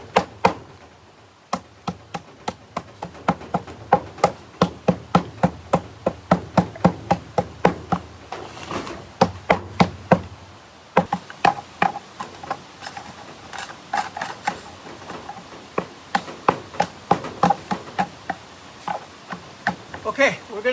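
Repeated knocking on a cement-soaked fabric planter to loosen it from its mould: a long series of sharp, close taps and thumps in an irregular steady rhythm, with a brief pause midway and a person talking intermittently.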